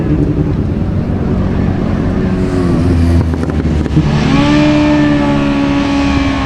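Motorcycles on a street drag strip at Bíladagar 2025, a steady engine drone under crowd noise, then a sharper rising engine tone joining partway through, moderately close.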